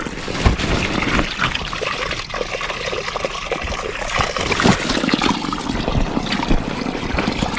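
Spring water flows and splashes continuously near the listener on a cold hillside at Falame Dada, a dense, steady rush without pauses.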